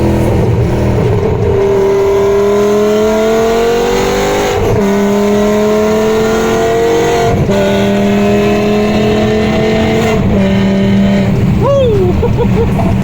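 A BMW E60 M5 fitted with Evolve headers runs hard on a race track at a trackday, its engine loud and close as it climbs through the revs in several long pulls with gear changes between them.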